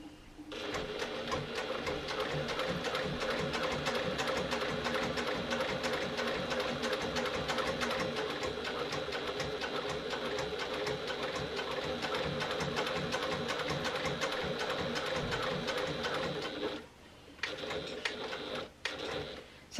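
A sewing machine stitches slowly around the edge of a bag lining at a long stitch length, a steady close mechanical whir running nearly twenty seconds before stopping and giving a few short starts.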